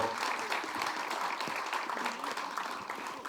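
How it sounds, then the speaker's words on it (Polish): Applause from spectators at a lower-league football match between MKS Janowianka and GKS Górnik II Łęczna, greeting a player named Kuba after an injury; steady, fairly faint outdoor clapping fills the whole stretch. "Wielkie brawa dla Kuby"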